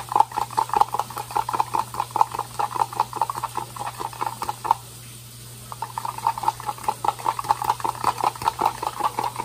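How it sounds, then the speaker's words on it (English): An egg being whisked in a bowl, heard as close, rapid rhythmic tapping and scraping strokes, with a brief pause midway before the beating resumes, over a low steady hum and no talking. "I'm going to whisk the egg now."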